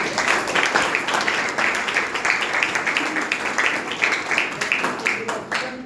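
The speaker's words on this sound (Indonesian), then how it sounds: "Tepuk tangan dulu" A crowd claps and applauds steadily for several seconds, dense and fairly loud, with voices mixed into the clapping.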